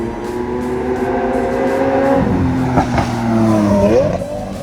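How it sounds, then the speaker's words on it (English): A Lamborghini Aventador's V12 engine runs loud and close, holding a sustained high drone that dips and then climbs again in pitch as it revs, with no talking. "Since this Aventador has a V12 engine, it goes through fuel really fast"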